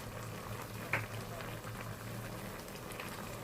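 Chicken stir-frying in a pan with seasoning in a Thai dish, giving a steady soft sizzle and crackle throughout with one brief sharper clink near the start.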